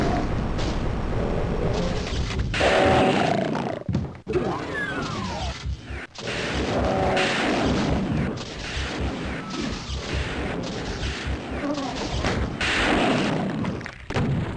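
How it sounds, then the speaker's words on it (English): BFG weapon blasts and heavy explosions from the Doom video game, loud booming bursts and crashing impacts repeating through dense, chaotic game action. "I actually used all of my BFG shots."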